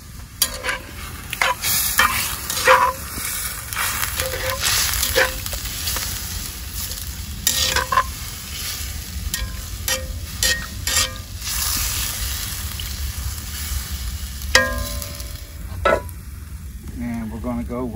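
A spoon stirs bay leaf and rosemary through a sizzling pot in old-time homestead cooking, making steady scraping and clinking strokes over continuous frying hiss, close by and without talk.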